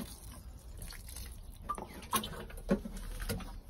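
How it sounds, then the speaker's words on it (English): Water from a watering can splashing into a hanging basket of garden plants, a soft steady patter with a few louder drips and splats close by. "One can, water them in."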